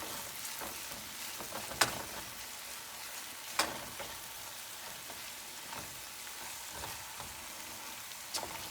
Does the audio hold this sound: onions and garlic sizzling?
yes